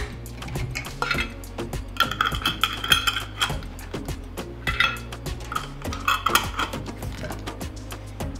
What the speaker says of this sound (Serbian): Zatim ću tegle zatvoriti sa čistim poklopcima.